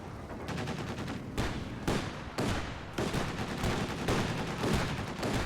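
Dense, continuous gunfire from a Company of Heroes 2 battle, with rapid bursts and loud cracks rolling over Grenadier infantry under attack, steady and close with no talk.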